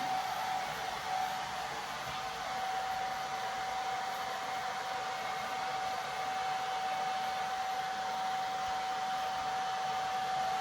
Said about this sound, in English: my hair is done being blow dried